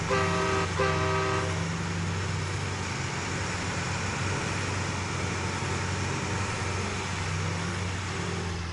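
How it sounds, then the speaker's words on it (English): A deep, multi-tone train horn on a diesel truck in the video game SnowRunner blares twice at the start, then a steady engine rumble continues with a brief horn note returning near the end. "diesel would be complete without a train horn"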